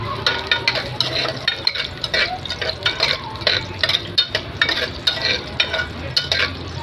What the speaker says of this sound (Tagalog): lagyan natin yung bawang